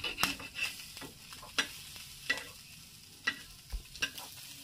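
Local village fish fries in a pan with a faint, steady sizzle, broken by several sharp ticks and scrapes of a spatula turning the pieces, quiet and close, with no talk.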